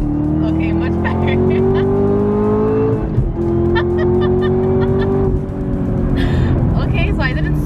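A 2019 Camaro ZL1 1LE accelerates hard in first gear, its loud engine note climbing steadily before a brief shift break and a second rising pull, with someone talking over it.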